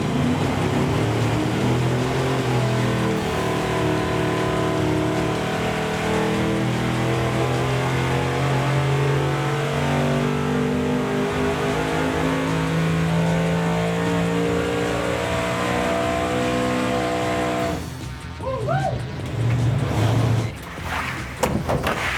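A powerful engine revs hard and loudly right up close, a sustained roaring drone with wavering pitch for about eighteen seconds, then drops off into rumbling and a brief shout.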